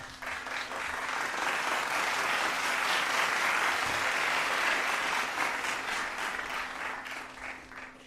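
A sports talk show host claps as a shout-out to his audience, a soft, fairly dense run of clapping that fades toward the end.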